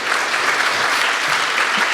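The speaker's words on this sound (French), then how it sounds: "On peut les applaudir quand même parce qu'ils ont été" An audience at a public lecture and discussion on genomics applauds the speakers, a dense, steady wash of many hands clapping that holds at an even, fairly loud level for the whole stretch, with no voices over it.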